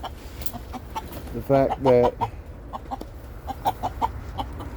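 Backyard chickens cluck in short irregular bursts, one hen letting out a louder drawn-out squawk, while someone talks nearby.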